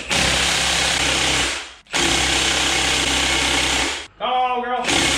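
A Milwaukee impact wrench hammers against a 400 pound-feet torqued eccentric bolt on a Mazda RX8 Renesis engine held with a flywheel tool, in two long loud close bursts, then a brief rattling third.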